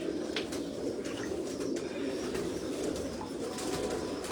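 Low, rolling coos from a Lal Pari pigeon fill a rooftop loft steadily and nearby, dotted with scattered clicks and flutters of movement.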